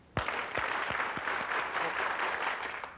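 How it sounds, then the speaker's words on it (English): Audience clapping at full volume, a dense continuous roar of applause starting abruptly and staying loud throughout, with a few sharper hand-slaps and shouts mixed in. "I'm going to start clapping. You start clapping with me. Take it to the highest volume level you can get it."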